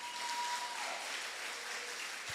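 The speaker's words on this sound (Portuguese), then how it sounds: "Dê salva de palmas ao Senhor." A church congregation at a worship service claps together in a steady, even wash of applause, moderately distant and continuous throughout the short stretch.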